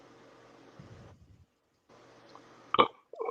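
A single loud, throaty burp erupts near the end against a quiet room hum, following a few faint low rumbles.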